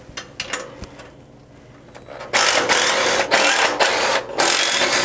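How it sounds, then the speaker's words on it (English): An impact wrench hammers at bolts on a CFMOTO plow mount: a loud, buzzy rattling burst that starts suddenly and runs in several long pulses with brief gaps, preceded by quieter clicks and handling noise. "today we're going to use an Ugga Dugger gun because she's faster"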